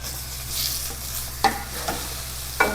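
Green gram thoran is stirred in a frying pan, a soft steady sizzle over a low hum with a few sharp scraping knocks of a spoon against the pan.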